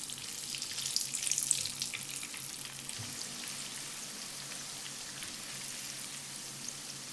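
Chicken pieces get a second fry in hot oil, a steady fine crackle and sizzle running throughout, a little busier near the start, with no talking.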